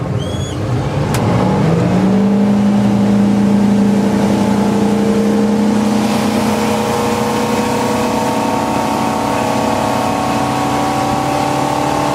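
A 2010 Bayliner 255 motorboat engine roars up, its pitch rising as the boat gets onto plane, then settling into a loud, steady drone as it speeds along, with no voices.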